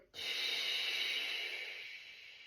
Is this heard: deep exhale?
yes